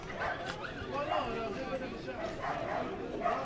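A four-month-old Malinois puppy gives a few short yips and bow-wow barks in a pet market setting, mixed into people talking nearby, at moderate distance throughout.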